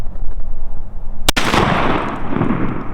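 A shotgun fires a Fiocchi turkey shotshell while patterning for turkey season: one sharp, loud close-range blast followed by a long, noisy rumbling decay.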